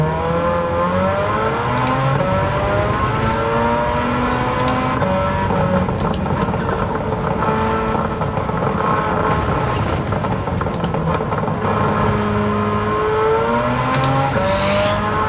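Loud racing engine of a 1991 Suzuki Cappuccino with a 13B rotary swap in Gran Turismo 7 at Kyoto Circuit, whining and revving continuously, pitch sweeping up and down through gear changes, close and unbroken.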